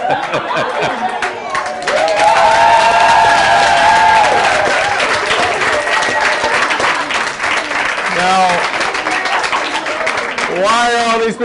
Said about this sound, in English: why are all these people clapping?